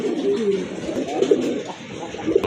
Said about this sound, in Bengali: মাশাআল্লাহ, সুন্দর কবুতর